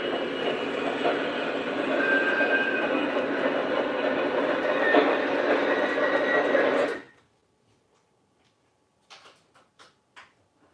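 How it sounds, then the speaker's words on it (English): Double-headed ES44 model locomotives in Conrail and Pennsylvania liveries haul a coal drag, a steady loud rumbling run that cuts off abruptly, followed by a few faint clicks. "But the ES44s, Conrail and Pensy, doing a coal drag."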